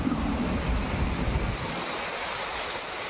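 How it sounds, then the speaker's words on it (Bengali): Wind gusting steadily outdoors after a rain shower on a hot day, a broad, continuous rushing roar that eases slightly partway through, with no talking. "আরে কি সুন্দর হাওয়া।"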